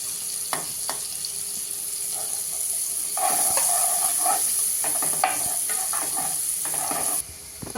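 Onion and spring onion sautéing in a hot pan with ginger: a continuous bright sizzle with bursts of scraping and stirring, louder in the middle, and no talking.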